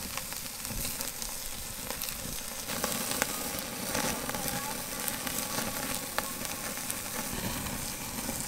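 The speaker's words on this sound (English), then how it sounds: "It's time to sear." Picanha and hanger steak sear over a Slow 'N Sear on a Weber kettle grill, giving a steady, fairly quiet sizzle with scattered crackles and pops.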